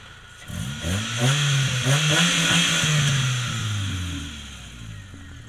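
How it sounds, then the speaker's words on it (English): A Mitsubishi Lancer's car engine revs up, climbing in pitch and holding high before easing back down, loud and close with no talk. "Let you hear it revved up a little bit."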